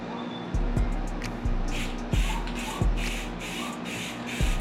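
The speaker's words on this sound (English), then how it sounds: "So you just want to try to spray it as evenly as you can" Spray paint cans hiss in repeated bursts while coating a truck body black, each spray pass steady and close, separated by short pauses and low thumps, with a constant low hum beneath.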